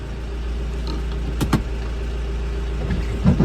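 A car idles and rolls slowly into a home's driveway, a steady low engine hum with a couple of sharp clicks or clunks midway and faint rustling near the end.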